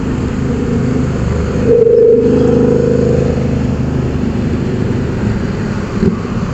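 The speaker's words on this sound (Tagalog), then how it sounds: "Dumaan sa motor lane." A car passes along a motorcycle lane on the Marilaque highway as a continuous close engine roar swells around the middle and then settles.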